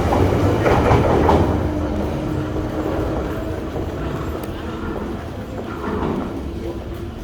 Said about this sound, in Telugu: టనల్లోని ట్రైన్ అన్నమాట.